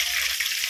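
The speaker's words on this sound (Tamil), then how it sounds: "அங்கே எண்ணெய் சூடேறி போச்சு. இப்போ பொரிக்கலாமா? பொரிங்க." Hot oil fries for a masala gravy in a loud, dense, close-up sizzle that holds steady throughout the short moment, with no speech.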